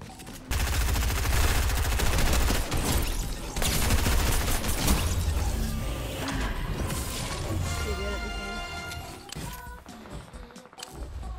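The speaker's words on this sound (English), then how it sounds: "We're just gonna kill this guy with 16 bullets" Rapid video game gunfire, a dense burst of around sixteen shots fired at an enemy, loud and continuous with impacts and crashes mixed in, while a player talks over it.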